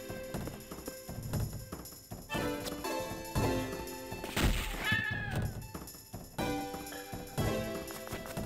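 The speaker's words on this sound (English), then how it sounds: "I just shot a cat." A cat meows as it is shot in the video game Koudelka, a few short cries over busy game music with thuds and clatter.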